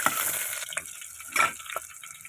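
Green chillies sizzle in hot oil with mustard seeds and curry leaves for a village dried-fish curry, a soft steady frying hiss with a few brief stirring bursts, close and fairly quiet.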